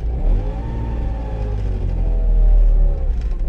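A Trabant's small engine hums and revs steadily while the car backs up in reverse gear, a close, continuous rumble with a slight rise in pitch partway through.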